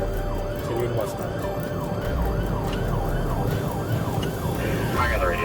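A stolen ambulance, with a paramedic and patient still inside, wails its siren in repeated rising and falling sweeps during a police pursuit, loud and steady over road and engine noise.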